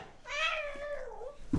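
A child in a cat costume gives a single drawn-out, wavering meow about a second long, imitating a kitty cat with the voice, close and clear in a quiet room.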